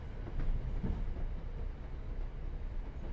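Another train rumbles past on the Boston–Providence line in Train Sim World 5, a steady low rolling rail noise with faint clickety-clack from the wheels and no voices.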